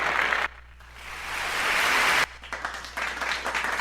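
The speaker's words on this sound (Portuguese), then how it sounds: "Todos os tipos de aplausos." Applause from a sound effects collection, a dense wash of many hands clapping that drops briefly, swells back up, then cuts to a thinner, more scattered round of claps.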